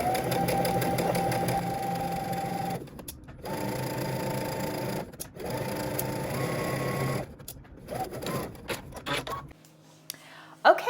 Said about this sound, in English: I'm gonna stitch at the very top of my serger